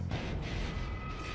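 Dense, rumbling battlefield gunfire and artillery-like booms from the real-time strategy game Command & Conquer: Red Alert 3 Uprising, a steady loud barrage with a thin tonal hum over it and no break.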